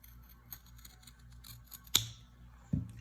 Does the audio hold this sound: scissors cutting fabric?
yes